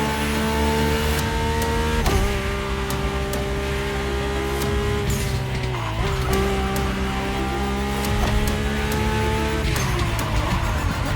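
A Mercedes-AMG One hypercar drives in The Crew Motorfest racing game. A loud engine revs and drops with gear shifts every few seconds, and tire squeal cuts through.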